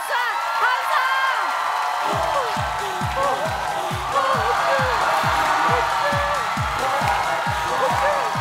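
A concert-like comedy show audience claps and cheers for a performer, steady applause mixed with whoops and crowd shouts, while a loud voice talks in rhythmic bursts over the top.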